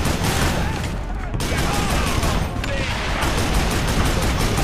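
Gunfire in the Western shooter Call of Juarez: Bound in Blood: a loud, dense, nearly continuous barrage of overlapping shots and blasts that fills the whole stretch without a pause.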